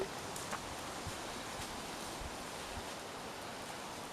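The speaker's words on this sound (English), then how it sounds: "Can you hear that wind just going through the trees?" Wind sweeps through the trees on a forested hillside at Bald Hill, a steady broadband rushing and rustling of leaves with gentle swells, continuous and alone without voices.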